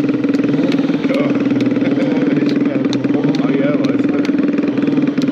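A Kawasaki motorcycle rolls slowly during a stunt riding show at Kawasaki Days 2022 in Speyer, its engine idling with a steady, continuous mid-pitched chug and small throttle blips.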